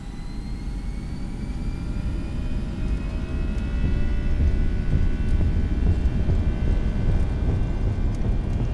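Jet engines of a FlightFactor A320 in X-Plane 11 spool to full throttle at Phoenix, a heavy steady roar with rising whining tones that grows louder midway and holds, no voices.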